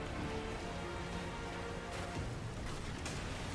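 Steady rain from the Destiny 2 video game on PS4, a dense continuous hiss of falling water with no breaks, heard alone at an even, moderate level throughout.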